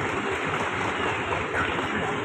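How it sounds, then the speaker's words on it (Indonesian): Sustained crowd applause at an Indonesian provincial Quran recitation contest opening ceremony in West Java, a steady dense wash of clapping with no pauses throughout. "tepuk tangan"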